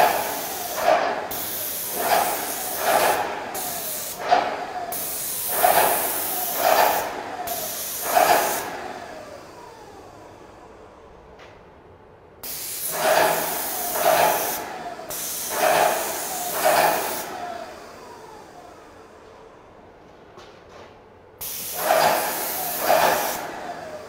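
A paint sprayer applying emulsion paint to woodwork, heard as loud, close hissing bursts in a repeated on-off rhythm, short sprays grouped together with pauses and quieter gaps in between.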